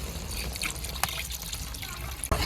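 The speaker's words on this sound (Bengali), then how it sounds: "পানি দিয়ে দিলাম" Water is poured into a tomato and river prawn curry in a village kitchen, a short close trickle and splash lasting a couple of seconds.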